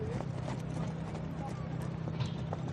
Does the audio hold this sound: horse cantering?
yes